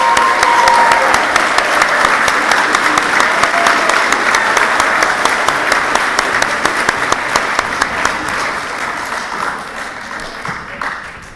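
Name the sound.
audience applause for teachers and parents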